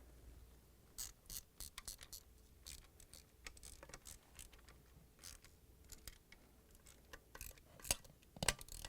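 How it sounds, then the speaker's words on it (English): Small 5/16-inch screws are tightened with a socket wrench on a washer transmission gearcase, giving a quiet run of rapid ratchet clicks in uneven bursts, close and faint, with no talking. "And now we're going to tighten it with 5/16 socket wrench."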